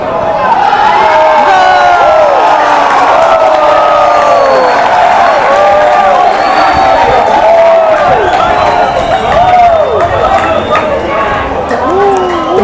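A crowd at an Arab café watching a World Cup match with Egypt playing cheers and claps in a loud, continuous din, with shouting voices and chatter running throughout.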